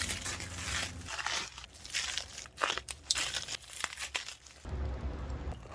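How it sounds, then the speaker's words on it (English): Packaging is pulled off a new van part fitted with grease zerks, giving close, continuous crinkling and tearing of wrapping material that shifts in loudness over a few seconds. "First I'm going to unwrap it and just see what this all looks like."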